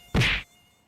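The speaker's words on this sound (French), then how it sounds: "Oh, les moustiques ici sont vénères." A loud, brief burst of insect buzzing, close to the mic, from mosquitoes swarming outdoors in Montpellier in early spring, then near silence.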